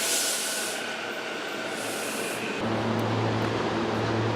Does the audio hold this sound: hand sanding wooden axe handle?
no